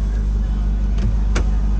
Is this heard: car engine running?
yes